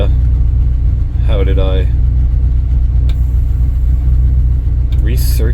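A 1964 Ford Thunderbird engine idles with a steady low rumble that continues the whole time, while someone speaks briefly over it and a few small clicks and knocks sound nearby.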